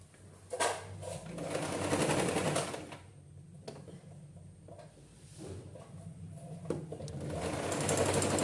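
Sewing machine running in close, loud sustained stretches, stitching the side seams of a layered girls' frock, with brief pauses and clicks between runs.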